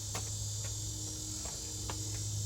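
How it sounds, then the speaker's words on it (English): A cicada gives a steady, high-pitched electric buzz that runs unbroken throughout, over a low constant hum, with a few faint ticks and clicks scattered through it. "My cicada's back."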